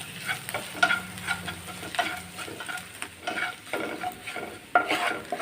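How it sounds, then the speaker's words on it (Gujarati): Dry spices and amchur powder being stirred in a hot pan, with a soft scraping and sizzling texture and several light clinks of the spoon against the pan, close and steady with no talking. "સરસ રીતે બધા જ સૂકા મસાલાને આપણે મિક્સ કરી લઈશું"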